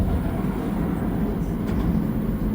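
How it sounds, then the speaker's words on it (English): Montreal Metro train on the Orange Line rumbling past at a station, a steady loud low roar of wheels and motors filling the whole stretch without letup. "that train that just went by might have been the one that was involved in the incident"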